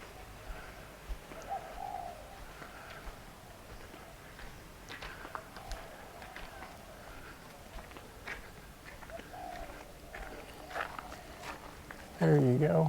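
Pigeons or doves coo softly at a Thai temple, with faint scattered calls, footsteps and a person talking nearby, ending in a sudden louder sound.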